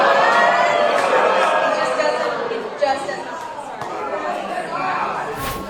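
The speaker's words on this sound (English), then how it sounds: "Constituents booing her" Constituents in a crowded city council meeting boo and jeer a council member, a sustained wash of raised voices and murmuring that swells and fades.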